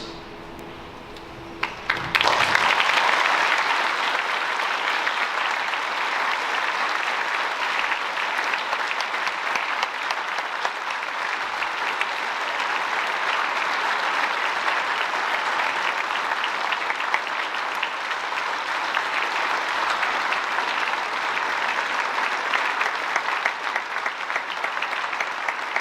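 An audience at a Veterans Day ceremony bursts into sustained applause after a brief quiet moment, the clapping dense and steady for over twenty seconds in an indoor hall.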